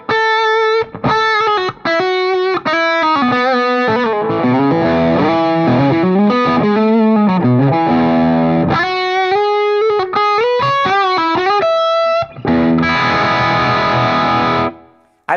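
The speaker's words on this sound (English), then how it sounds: "let me put on a little bit of heavier gain and listen to the bridge pickup as a humbucker" A PRS electric guitar played through its bridge humbucker with heavier gain, ringing out distorted chords and single-note lines at steady loudness, with a brief buzzier, thicker chordal section near the end before the notes cut off.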